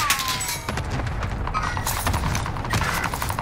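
An enemy firing at the player in a tactical shooter video game: a stream of close, sharp gunshots with thuds and impacts, steady throughout the short moment with no talk.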